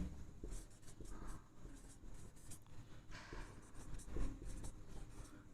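Pen or marker scratching steadily on paper while a determinant is worked out in a maths class, with continuous close writing strokes and brief pauses, no talk.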